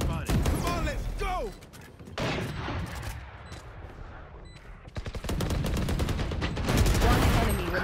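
Operator sniper rifle fire in the shooter Valorant, loud close shots with repeated rapid bursts of gunfire and impacts, mixed with game effects over several seconds.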